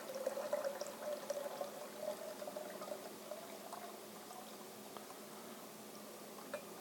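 Water pours steadily into a pot in a continuous, gentle splashing stream that fades slightly toward the end.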